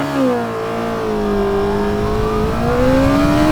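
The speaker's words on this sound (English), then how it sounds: "Whoa, I think I hit the rev limiter." Kawasaki ZZR1400 motorcycle engine accelerating hard through the revs, a loud, continuous rising whine that climbs steadily and holds near the rev limiter.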